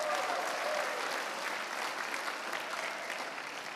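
A congregation at a church service claps together in a sustained, even burst of applause, moderately loud and steady for the whole stretch, with faint voices underneath.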